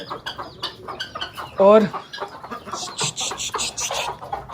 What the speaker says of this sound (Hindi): मुर्गियाँ शौक से खा रही हैं।